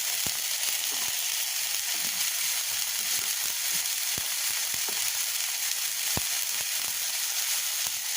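Turmeric, chili powder and salt sizzle steadily in hot oil in a pan as the spice paste is fried, with a few faint clicks of stirring scattered over the continuous hiss.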